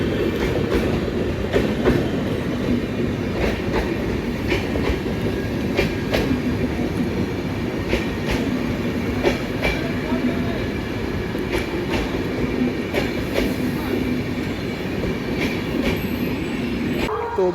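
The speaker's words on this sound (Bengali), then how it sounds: "5 নম্বর থেকে চলে যাচ্ছে শিয়ালদা রাজধানী" The Sealdah Rajdhani express pulls away from platform 5 at a station on the Bardhaman–Howrah chord line, giving a steady rolling rumble with rhythmic clickety-clack of wheels over rail joints, close and continuous throughout.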